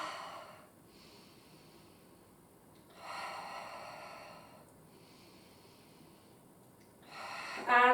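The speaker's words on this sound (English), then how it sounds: "really think of breathing in through the nose," Slow controlled breaths during a Pilates exercise, each drawn in through the nose and pushed out through the mouth, with two long soft airy passes separated by quiet pauses and a sharper, louder burst at the very end.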